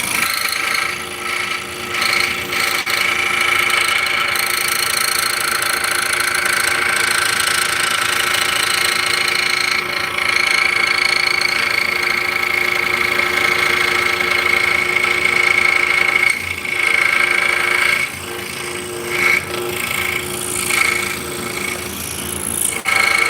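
Scroll saw cutting wood, a loud continuous buzzing motor hum with the rapid rasping reciprocation of the blade through the workpiece, steady for a long stretch with slight dips in intensity.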